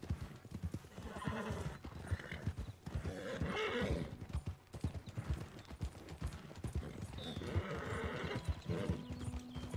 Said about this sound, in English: it takes this long to ride a horse across the map